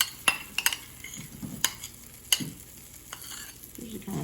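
Soft sizzling of batter in a buttered frying pan, broken by several sharp clinks and scrapes of a utensil against metal, fairly close and quiet.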